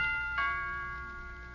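A two-tone doorbell chime rings once in a 1954 radio drama, the second note ringing out clearly and fading slowly.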